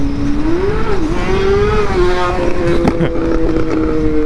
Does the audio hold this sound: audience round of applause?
no